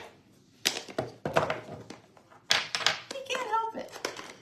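Dishes being washed and banged together nearby, a series of sharp clattering knocks and clinks in irregular bursts, with some louder metallic rings toward the end.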